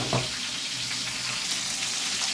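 Food sizzles and crackles in hot oil, a constant bright hiss close by with small pops, no talking.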